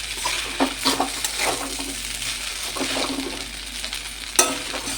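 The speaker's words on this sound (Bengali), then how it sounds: "এবার আবার একটু হালকা হাতে মিশিয়ে নিলেই আমার চাউমিন পুরোপুরি রেডি হয়ে যাবে" Chicken chowmein stirred and tossed in a pan, soft scraping strokes and brief sizzling bursts coming in uneven waves, with one sharp clink of a utensil near the end.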